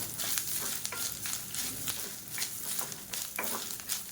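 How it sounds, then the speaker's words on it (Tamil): Grated coconut and chana dal sizzle gently while being stirred and roasted in a pan, with repeated close scraping strokes over a soft, continuous frying hiss. "சேர்த்துட்டு நல்லா ஒரு பரட்டி விட்டுக்கலாம்."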